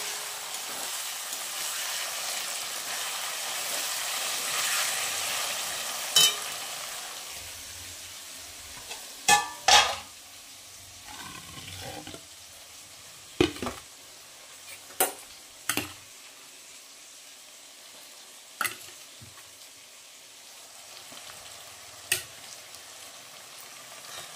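Meat sautéing in a pan before potatoes go in: a soft, steady sizzle beneath occasional sharp clinks and scrapes of a spoon against the pan, fairly faint and without talk.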